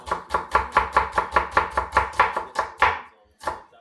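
A knife chops red onions thinly on a board in quick, even strokes, about a dozen crisp close-up cuts in a steady rhythm, then a short pause and one final chop, with no talking.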